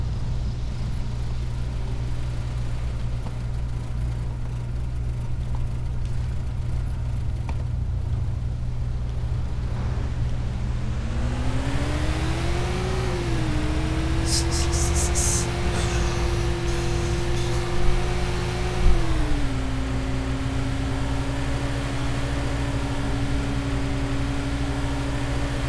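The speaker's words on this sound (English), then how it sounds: "I think I hear a car, I don't know." A car engine drones steadily in the video game Arma 2 during a Takistan police patrol, its tone rising in pitch as the vehicle accelerates around the middle, then holding and dropping slightly, with a brief mechanical clatter near the peak.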